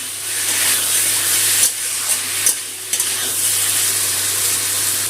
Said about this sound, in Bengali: টমেটোটা একটু কষিয়ে নিচ্ছি, টমেটো আদা কাঁচা লঙ্কা বাটাটা।